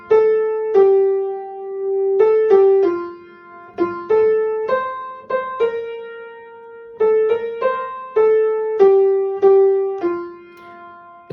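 A simple piano melody of single notes played one at a time in an even, unhurried rhythm, each note ringing and fading cleanly with nothing else heard.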